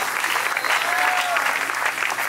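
A church congregation applauds and cheers in praise during a worship service, dense sustained clapping with crowd voices mixed in, steady and loud throughout.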